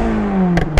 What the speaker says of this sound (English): give the car a little rev up